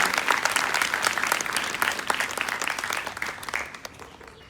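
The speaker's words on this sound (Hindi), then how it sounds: "इसके लिए एक बार जोरदार तालियां।" Loud applause from a crowd at a school Republic Day event, many hands clapping briskly and densely before gradually thinning and fading out toward the end.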